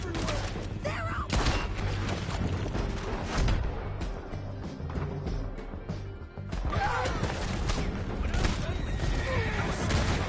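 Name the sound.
horses neighing amid gunfire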